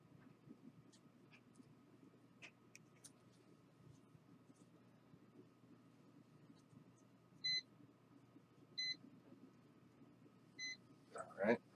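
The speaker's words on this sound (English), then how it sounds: "this tone stop that's beeping when the GPS signal's lost" A Hubsan H501s drone emits short, faint electronic beeps that repeat at intervals as a GPS-lost warning, against steady low background hum.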